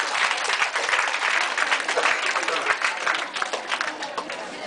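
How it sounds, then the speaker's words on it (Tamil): Students in a classroom or hall applaud together in a dense, sustained burst of clapping, with some crowd noise and voices mixed in under it. "கைத்தட்டல் எதுக்கு?"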